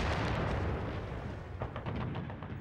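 Heavy artillery fire from two World War I monitors with 15-inch guns: deep, rumbling booms roll under a continuous low roar, and several sharper reports break through toward the end.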